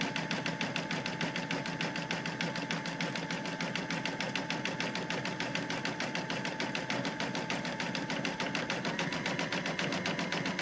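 An embroidery machine stitching a satin-stitch circle on a mug rug in the hoop, a fast, even mechanical chatter of the needle running steadily and close throughout.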